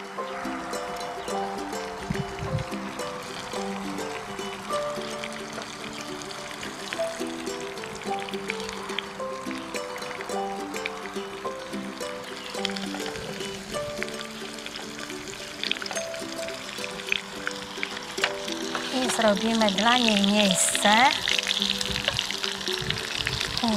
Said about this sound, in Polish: i też będzie się smażyć